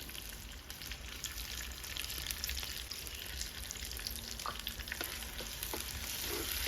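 Ground tomato and onion sautéing in oil with curry leaves for a village-style fish curry, a dense continuous crackling sizzle with light popping, close and steady throughout, no voices.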